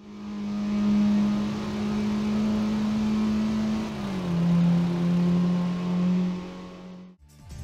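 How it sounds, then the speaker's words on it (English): Steady car engine drone from the Tokyo Xtreme Racer video game, a single synthetic tone that holds, dips in pitch midway as revs change, then climbs again before cutting off abruptly near the end, loud with no talk. "The engine sounds are a single note pitched up or down depending on the RPM you're at."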